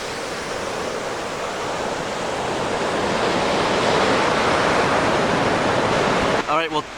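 Broad, continuous roar of ocean surf at Cape Henlopen, Delaware, rising slightly and holding steady and loud, with a brief voice just at the end.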